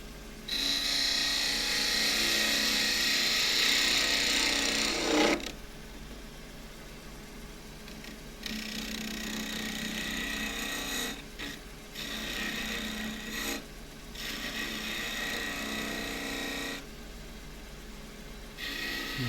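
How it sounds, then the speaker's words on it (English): A gouge cutting an end-grain box from scrap wood spinning on a lathe, giving a steady rasping, scraping hiss in sustained passes broken by short pauses, close and clear with no talk. "so back to the gouge"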